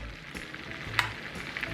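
Hot butter and garlic spooned over ribeye steaks, a crackling sizzle close by with a few light clinks and pops.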